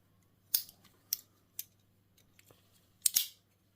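Sharp snips from the scissors of a Rocktol multitool, close up, several quick cuts spaced irregularly, with a small cluster of snips near the end against near silence.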